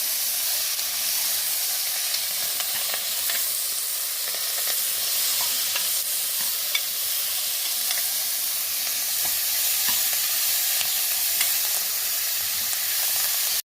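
Mint and coriander leaves frying in a pan for a Karnataka-style chicken bele saaru, a steady broadband sizzle and hiss with occasional light stirring scrapes, continuous and fairly close, with no voices.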